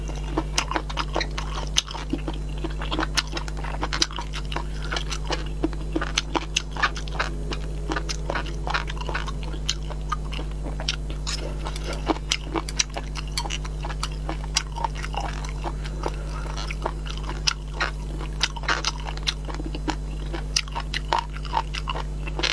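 Close, crisp chewing of boneless chicken feet in a mukbang, a steady run of wet crunches and bites right at the microphone, alone over a low constant hum.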